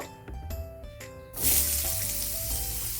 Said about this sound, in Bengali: এখন আমি আলু আর ওলকপিটা ভেজে নেব